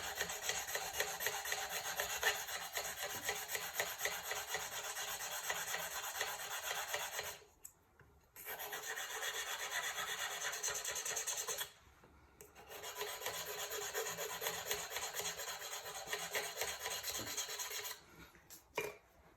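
Diamond file sharpening stainless steel and tungsten carbide pottery trimming tools, a steady close rasping scrape in long continuous runs broken by two short pauses, no voices.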